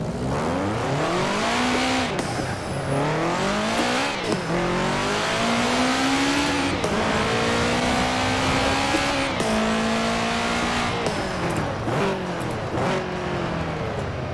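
Subaru WRX STi in Forza Horizon 4 driving hard, its engine note rising and falling steadily through repeated gear changes and revving with no pauses for around fourteen seconds, loud and close.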